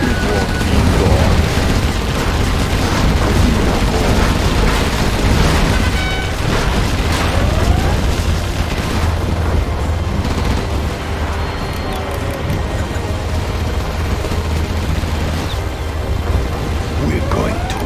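Rapid bursts of gunfire and booming explosions from a base under attack in the video game Generals Zero Hour, a dense, continuous barrage of battle noise with game voices mixed in.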